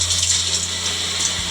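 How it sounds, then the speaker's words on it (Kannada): Water poured into a hot pan of dry field beans being roasted for sambar, a steady close hiss and trickle lasting the whole moment with no talk. "ಈಗ ಹುರಿಯುವಾಗ ನಾವು 1 ಸ್ಪೂನು ಅಥವಾ ಸ್ಪೂನ್ ಲೆಕ್ಕಾಗಲಿ ಒಂದು ಅರ್ಧ ಲೋಟದಷ್ಟು ನೀರನ್ನ ಹಾಕೋತಾ ಇದ್ದೀನಿ"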